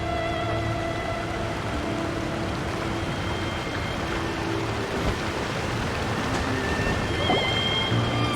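Rushing waterfall in Genshin Impact, a steady broadband roar of pouring water that holds evenly the whole time, with soft tonal game ambience layered above it and no talking.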